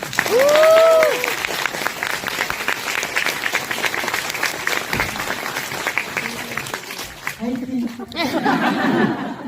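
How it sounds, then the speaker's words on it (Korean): Sustained applause from an audience at a poet's book concert, honoring students; a dense, steady wash of clapping with scattered laughter and chatter mixed in, and voices rising near the end. "우리 이 학생들 이제 큰 박수 한번 주세요"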